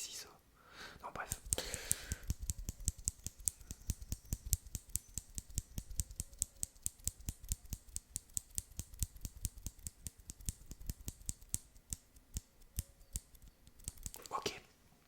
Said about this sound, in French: C'est des ciseaux